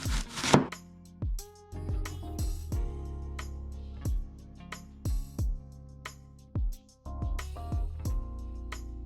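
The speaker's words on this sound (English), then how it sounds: "we have to cut the onions first to the small little pieces" A kitchen knife chops onions into small pieces on a cutting board, sharp separate thuds in an uneven rhythm with short pauses, close and clear, with no talk.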